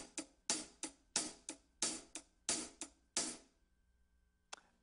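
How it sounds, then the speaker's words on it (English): A straight drum kit groove, hi-hat driven with the first beat accented, taps out about a dozen crisp, even strokes in steady rhythm, close and fairly quiet, then stops with one final hit. "I'll play one bar of a very straight groove where I'm accenting the first"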